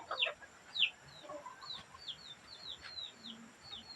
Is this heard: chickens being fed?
yes